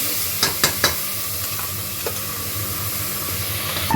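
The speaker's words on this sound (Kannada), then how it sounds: "ಈಗ ರುಬ್ಕೊಂಡಿರೋ ಮಸಾಲೆ ಹಾಕೋಣ." Ground masala for mutton biryani is dropped into a hot pan and stirred, giving a steady sizzling hiss with a few sharp scraping clatters near the start, close and fairly loud.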